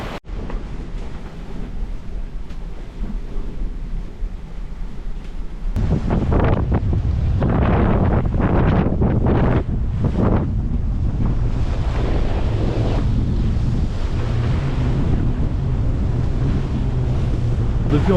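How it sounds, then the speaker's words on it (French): Strong wind roars and rough sea waves crash steadily around a solo sailboat on an Atlantic passage from Mexico to Bermuda, loud and continuous with buffeting gusts on the microphone. "Depuis environ une heure, la mer s'est beaucoup durcie."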